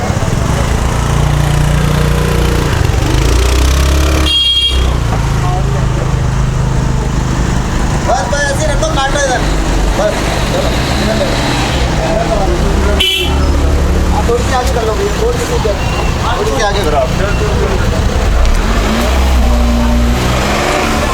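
Sunday traffic jam on a road in Mussoorie, with dense idling engines and car horns tooting repeatedly close by, a constant loud street din with voices mixed in.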